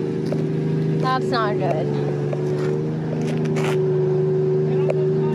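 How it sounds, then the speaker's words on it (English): A car fitted with an exhaust, out for burnouts, chasing and drifting. A loud, steady engine drone with strong tonal hum runs throughout, and someone speaks briefly over it. "I'm not used to having an exhaust on this car."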